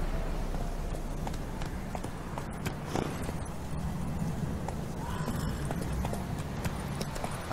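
Horse hooves clip-clopping at a run in The Witcher 3 video game, a steady rapid rhythm over a constant background bed.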